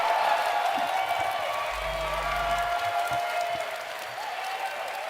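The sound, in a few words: audience applause for the id Software team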